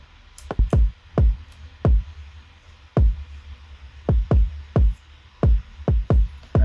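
Heavily squashed, saturated kick drum thumping repeatedly in a loose rhythm over a hissy, distorted background.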